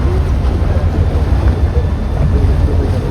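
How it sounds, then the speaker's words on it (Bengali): A fishing trawler at sea off Inani Beach, Cox's Bazar, heard from a passing ship: a loud steady rumble of engine, wind and waves with no speech. "ফিশিং ট্রলার মনে হচ্ছে।"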